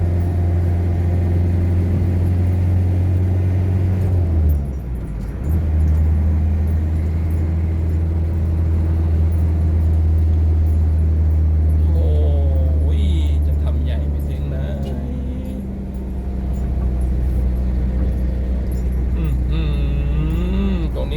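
Traffic on Thailand's four-lane Sukhumvit Road (Highway 3) between Pattaya and Sattahip, heard from inside a moving vehicle as a loud, constant engine and road drone that shifts pitch now and then.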